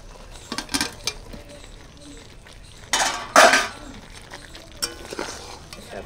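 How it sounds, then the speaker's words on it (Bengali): Paneer and fried potatoes tipped into a cooking pan for aloo biryani: a few soft taps and clinks, then a loud close metallic clatter and scrape of utensil against pan, followed by quieter clinks. "এবার দিয়ে দেবো পনির, সাথে ভেজে রাখা আলুও দিয়ে দেবো।"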